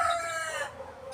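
A young rooster, a stag in a backyard breeding pen, crows once in a clear, fairly close call that trails off into quiet.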